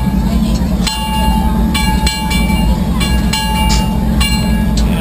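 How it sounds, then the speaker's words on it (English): Disneyland Railroad steam locomotive Ernest S. Marsh No. 4 at Fullerton, with its bell struck several times as sharp metallic rings over steady loud rumbling and hiss, heard close up. "it'll hit the bell a couple times"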